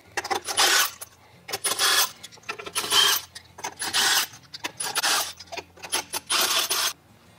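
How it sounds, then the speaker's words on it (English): Lug nuts being loosened and spun off a trailer wheel with an impact tool or wrench, heard up close as five bursts of rasping, whirring mechanical noise separated by short pauses. "Now that the lug nuts are off, you can pull the wheel off and roll it off to the side."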